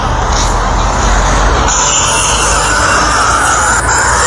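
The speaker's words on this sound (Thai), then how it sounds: "เสียงรถเข้า" A continuous loud vehicle engine rumble with broadband road noise, steady throughout and fairly close, with no clear speech.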